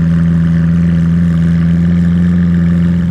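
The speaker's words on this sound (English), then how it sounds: "right now, man, you know what's just amazing is hearing this engine." A Lamborghini Aventador LP 700-4 engine runs close by, a loud, steady, low droning idle with a slight throb and no talking over it.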